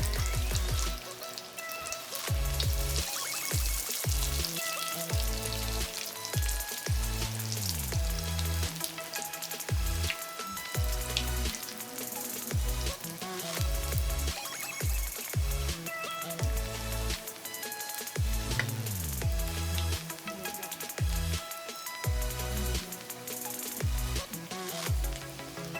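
Vegetable strips deep-fry in oil over medium heat, a dense, continuous crackling sizzle close up that holds steady with no talk.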